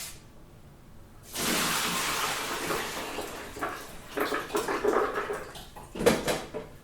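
Almonds soaked overnight being drained, a sudden splashing pour of water into a sink with clinks of a bowl or strainer, close and fairly loud, tapering into irregular drips and knocks.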